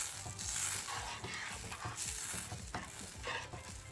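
Garlic butter sauce bubbles and sizzles in a pan, a soft, busy crackle with irregular popping bursts and faint utensil scrapes, fairly quiet and without talking.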